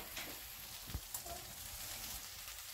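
Fried okra tipped into a pan of sizzling masala for bhindi masala, giving a steady close frying hiss with a couple of soft thuds as the pieces land.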